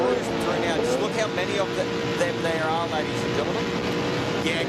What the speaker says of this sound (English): You can hear he is absolutely clipping the limiter in top gear in that truck.